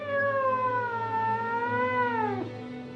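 A single long, drawn-out cat meow, loud and close, wavering in pitch before dropping off sharply at the end.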